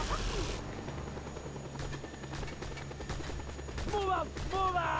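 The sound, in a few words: helicopters in the video game Just Cause 2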